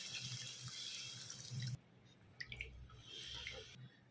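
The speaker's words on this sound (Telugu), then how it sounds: "నెక్స్ట్ ఇందులో 200 ml వాటర్" 200 ml of water is poured into a pot of aloo chicken kurma in a short splashing stream, then stops and leaves a few faint drips and sizzles.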